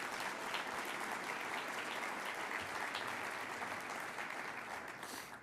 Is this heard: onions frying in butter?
no